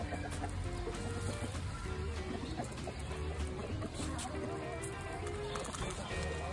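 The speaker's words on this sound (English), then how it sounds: "This one is a rooster," Hens and a rooster in a backyard in Pakistan cluck and murmur steadily while being fed, a busy close flock sound with overlapping calls under a constant background hiss.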